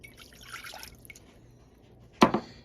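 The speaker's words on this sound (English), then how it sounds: "And then we'll add the water to our pan here." Water is poured into a pan for making Jello gummies. A short, sharp splash of pouring comes near the end, after faint scattered drips and small clinks.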